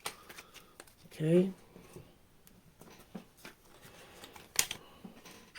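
Tarot cards are shuffled by hand in short soft riffles and taps, quiet and close, with a voice speaking briefly.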